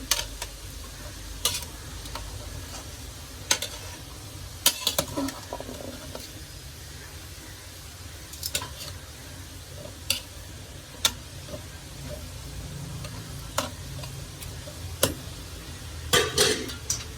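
Grapes being stirred and turned over in a cooking pan, scattered scraping clicks and taps of a utensil against the pan at irregular intervals over a soft continuous sizzle-like hiss.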